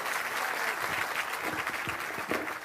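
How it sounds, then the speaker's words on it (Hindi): Crowd applauding at a Prashant Kishor Jan Suraaj padyatra rally: steady dense clapping from many hands, sustained for a few seconds with scattered sharper claps standing out near and far. "अब एक बार प्रशांत किशोर जी के लिए जोरदार ताली बजाइए"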